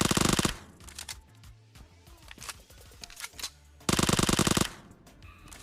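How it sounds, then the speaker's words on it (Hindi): Rapid automatic Uzi fire in the mobile shooter Battlegrounds Mobile India, with two loud sustained bursts at the start and later, and scattered shots and game clatter between them. "एक एनिमी को मैं कैसे ऊजी से मारूंगा"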